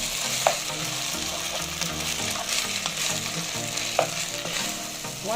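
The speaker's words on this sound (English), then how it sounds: "we're going to give this a quick stir until everything is perfectly combined" Rice and sausage being stirred in a frying pan, with a steady close sizzle and repeated scraping, clattering strokes of the utensil against the pan.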